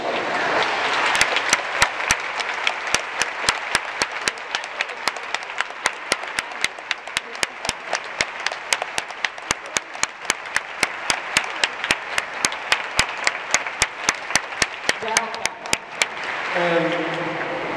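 Sustained applause from an audience welcoming the 2013-2014 cohort of new Science Pathways students at a Yale orientation, a dense wash of clapping with sharp individual claps throughout, thinning out near the end.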